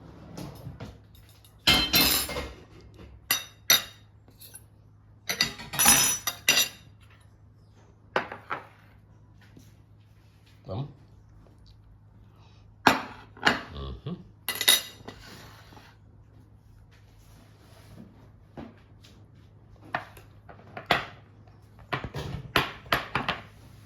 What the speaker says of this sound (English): I enjoy eating with a spoon